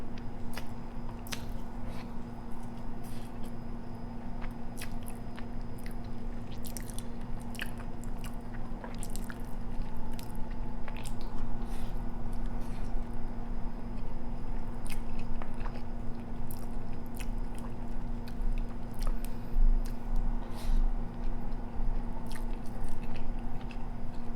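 Close, wet biting and chewing of spicy raw crab marinated in soy sauce, with sharp crunchy cracks of shell over a steady squishy mastication, sustained and loud with no talking.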